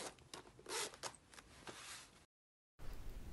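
A zipper runs open on the case of a ChiaoGoo knitting needle set, a close, crisp rasping pull of a few seconds, then brief silence and a soft rustle as the case is handled.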